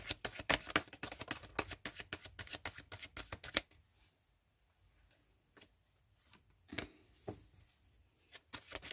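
Tarot cards shuffled close by, a fast riffling patter for several seconds, then a quieter pause broken by a few single card snaps, with no speech.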